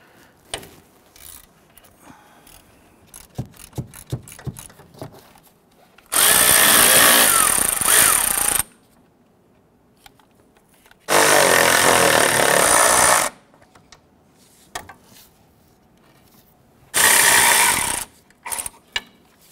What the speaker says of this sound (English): Using a 15mm deep socket, we're going to access the 3 nuts along the top of our strut assembly.